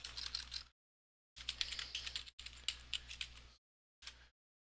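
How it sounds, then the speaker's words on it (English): Rapid typing on a computer keyboard, bursts of dense clicking separated by short silences, close and fairly quiet over a low steady hum. "I'm typing in manually"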